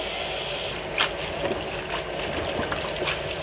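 Water trickles and splashes as vegetables are rinsed a second time in fresh water at a kitchen sink, a steady close wash with small irregular drips and spatters throughout.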